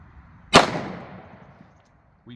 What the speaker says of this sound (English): We have 5 rounds loaded up, and we're gonna see what happens here.